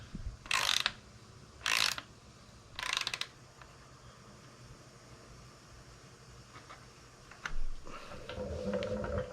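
Bicycle bottom bracket tightened with a hand tool: three short, sharp ratcheting bursts close by in quick succession, followed by quieter handling noise and a few faint clicks.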